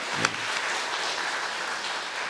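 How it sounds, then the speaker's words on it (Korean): A church congregation claps together in sustained, steady applause that fills the room, with a brief louder burst near the start. "우리 크게 격려의 박수 한번 쳐주시면 고맙겠습니다"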